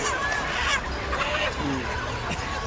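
Large chickens for sale at a busy poultry market cluck and squawk among steady crowd noise, with people talking nearby throughout.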